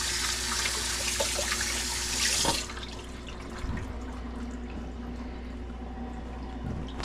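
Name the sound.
washing hands under running tap water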